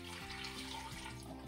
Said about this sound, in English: Okay, gonna throw some water